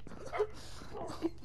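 Dogs in the video game Minecraft giving two short whimpering yips, close and fairly quiet, with soft background noise between them.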